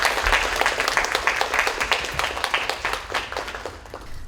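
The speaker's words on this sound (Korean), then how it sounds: "큰 박수로 맞아주세요." An audience at a KBS ABU international forum session applauds, a dense burst of many hands clapping that thins out gradually toward the end.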